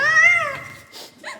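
A cat gives a loud, drawn-out meow up close, followed by a couple of shorter, softer chirping meows, heard clearly with no talking over it.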